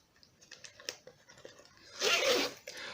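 Orange zip on the zip pocket of a Filofax Metropol A4 folio, heard as one close zipping pull of about half a second after some quiet handling clicks and rustles.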